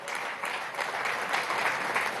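Steady applause from an audience at an official presentation, a dense, even clatter of clapping hands that holds at a moderate level throughout.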